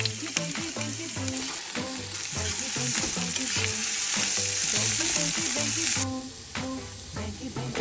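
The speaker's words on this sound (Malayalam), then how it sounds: "അപ്പോൾ ഇതൊന്ന് മൂത്ത് വരുമ്പോൾ നമുക്ക് സവാള ഇട്ട് കൊടുക്കാം." Sliced onions fry in hot oil for chicken biryani, with a loud, steady sizzle close by and intermittent scraping and stirring in the pan.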